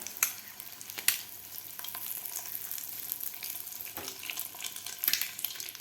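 Egg pav, Mumbai-style bread with egg, fries in a pan with a steady, soft sizzle and a few sharper crackles and clinks from close by, without speech.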